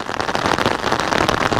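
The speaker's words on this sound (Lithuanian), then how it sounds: "Eik tu savo kaip lyja!" Rain pours during a thunderstorm at the NEO Rally Žemaitija 2026 stage, a dense, steady hiss of drops with no break and no voices.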